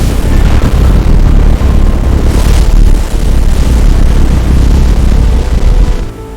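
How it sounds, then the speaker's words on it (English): A stealth spy drone engine roaring to life, a loud continuous booming roar with rumbling low power that swells midway and eases off at the close. "The stealth engine roars to life with enormous power."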